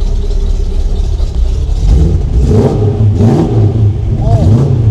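A small, cold V8 car engine revs up and down several times over a steady idle, loud and nearby, with voices talking faintly underneath.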